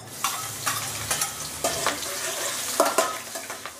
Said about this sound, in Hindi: कड़ी पत्ते डालने के बाद 6-7 हरी मिर्च को बारीक कट करके डाल देते हैं।